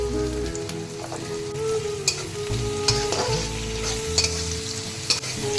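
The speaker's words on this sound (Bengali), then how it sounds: "পেঁয়াজটাকে বেশ ভালো করে নাড়াচাড়া করে নেবো।" Onions fry in a pan under a steady hiss while a spoon stirs them, giving irregular scrapes and clinks close by.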